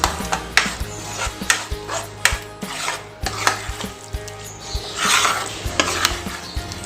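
Curd being mixed into an onion, tomato and chickpea paste for chana masala, with repeated loud clacks of a spoon on the pan, wet stirring and a light sizzle underneath, close and with no talking.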